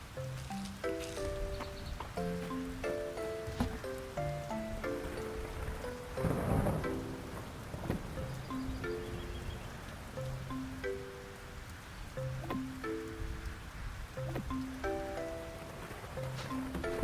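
Soft, steady rainfall in the farming game Fields of Mistria, a faint continuous patter beneath a prominent plinking melody, with a brief louder rumble partway through.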